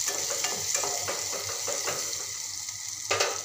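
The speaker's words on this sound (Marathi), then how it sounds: "1 चम्मच लाल मिरची पावडर आणि याला छान असं मिक्स करून घेऊ।" Red chili powder stirred into a curry frying in a pan, with a steady bright sizzle and repeated scraping strokes of a spoon, ending in a louder burst near the end.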